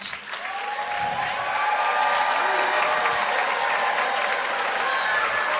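Loud, sustained applause from a large crowd honoring graduates at a high school senior graduation ceremony, building quickly and holding steady as one dense wash of clapping.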